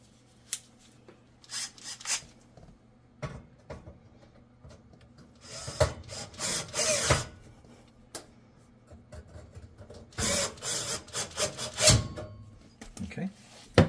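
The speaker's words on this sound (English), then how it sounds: "I'm going to use a manual screwdriver just to get these started properly" A manual screwdriver drives screws into a Samsung oven part during an ignition repair, with several bursts of close scraping and rasping turns separated by quiet pauses.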